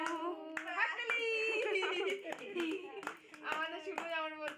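Hands clap in several sharp bursts during a family birthday celebration, mixed with cheerful voices of adults and someone talking and laughing close by.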